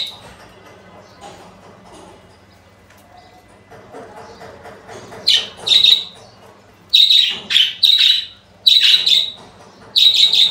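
Pet birds chirp indoors at home. A faint, quiet stretch gives way to loud, close bursts of sharp, high chirps and squawks that repeat in quick clusters through the second half.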